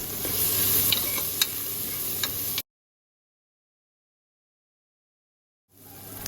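Tomatoes with a pinch of turmeric frying in a pan for a mutton chops gravy, a steady close sizzle with occasional stirring clicks, cut off to silence midway before the frying hiss returns briefly at the end.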